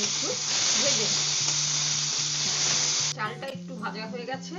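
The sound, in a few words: Gobindobhog rice frying in a pan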